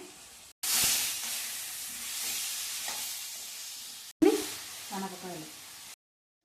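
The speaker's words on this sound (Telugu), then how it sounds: "ఇది వేసి కాసేపు మనం బాగా ఫ్రై చేద్దాము" Finely cut bottle gourd sizzles and hisses in a hot pan for a bottle gourd curry, with a sharp burst of frying as it goes in, steady crackle, and a stir or two near the end.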